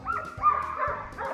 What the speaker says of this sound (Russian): Да еще гавкает-то.